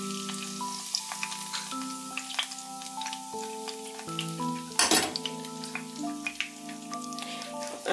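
Egg stirred and frying in a Chinese wok, with steady sizzling, scraping and clinks of a utensil against the metal pan, plus one louder clatter midway. No voices.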